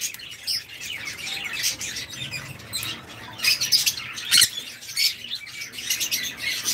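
A pair of blue birds chirps at a farm aviary, with quick, bright tweets and calls scattered steadily throughout, plus a few sharper squawks near the end.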